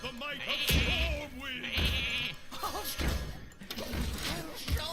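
Sheep bleat in the Hearthstone card game, several wavering cartoonish bleats mixed with thumping impact and crash effects from the match, loud and busy throughout.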